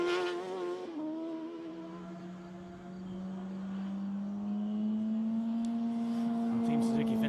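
Sidecar racing outfits lapping the Rijeka circuit, a high engine note dropping on deceleration then climbing steadily as the machines accelerate, heard from trackside with crowd and commentary noise beneath.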